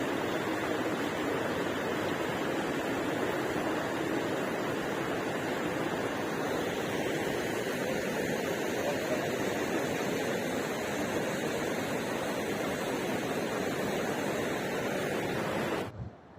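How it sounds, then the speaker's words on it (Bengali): A mountain river rushing on the Madmaheswar trek in November, a steady, broad roar of fast-flowing water, loud and continuous with no other sounds until it cuts off at the end. "জলের আওয়াজের সাথে কিছুক্ষণ 10-15 মিনিট বসে বসে খুব ভালো লাগে"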